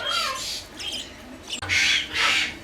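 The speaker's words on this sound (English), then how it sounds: "They're basically a miniature parrot." Small pet parrots kept as miniature parrots give harsh, loud squawks and shrill calls in two main bursts with a brief pause between, close by and with no talk over them.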